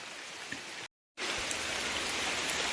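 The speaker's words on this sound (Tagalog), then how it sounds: "Pero kani nga ulan makabasa na gini." Steady heavy rain hisses continuously, broken by a brief moment of silence before the downpour resumes just as strongly.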